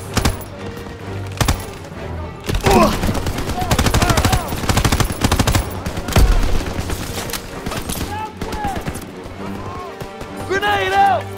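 Rapid machine gun fire from a World War II battle in Call of Duty: WWII, bursts rattling loud and close across a busy firefight with explosions and voices talking over the action.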